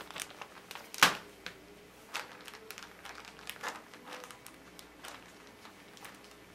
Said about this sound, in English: We're gonna put it in a plastic bag, fold it over, step on it, flatten it out.